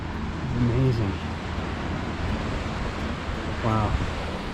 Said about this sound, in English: look at the waves crashing